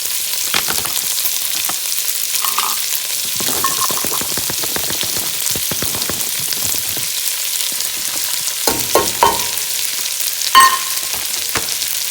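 Carrots, celery and onions frying in bacon fat, a continuous crackling sizzle with scattered pops and the scrape of stirring, close and steady without talk.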